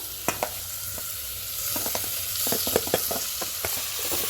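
Spiced rice with paneer and vegetables frying in a pan while being stirred: a steady sizzle runs underneath repeated short scraping and clinking strokes of the spoon.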